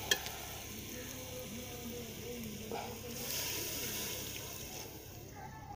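Water splashes into a hot, sizzling tadka in an outdoor village kitchen, giving a steady fizzing and bubbling hiss that rises midway and carries on throughout with no one speaking.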